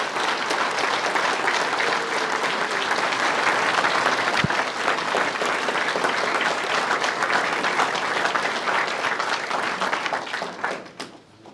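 An audience at a political town hall meeting breaks into loud, sustained applause that holds evenly for about ten seconds before tapering off at the end.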